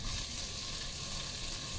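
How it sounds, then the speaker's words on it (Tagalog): Sliced salmon fillet pieces fry in a pan for teriyaki, giving a close, steady, even sizzle with no pauses or voices. "iprito naman natin yung hiniwa-hiwa ko na salmon fillet"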